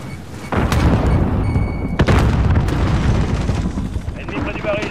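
A grenade blast in Call of Duty Modern Warfare multiplayer on PS4, a sharp, loud crack partway through, set in dense, continuous battle noise with rumbling booms and game voices underneath.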